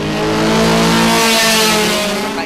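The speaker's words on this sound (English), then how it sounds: "Medyo gumanda yung idling ng makina ko eh." A car engine revs hard up close, its pitch climbing and then easing back down in one loud, throaty burst.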